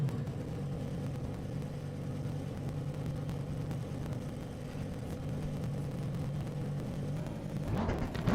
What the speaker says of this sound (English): You may hear the car.